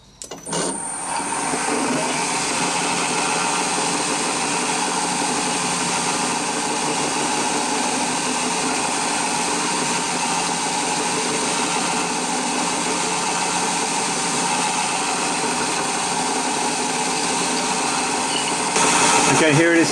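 A 3/32 drill bit freshly sharpened on a DIY four-facet grinder drills into aluminium, with a loud, steady motorized whir and faint grinding texture running unbroken for nearly twenty seconds after a brief start-up.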